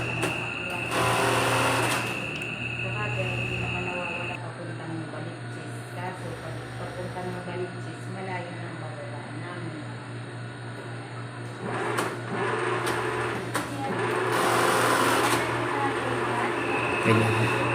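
An industrial sewing machine runs continuously while fabric is guided through it, a steady mechanical whir with a loud hum, rising in short bursts, as a person talks over it.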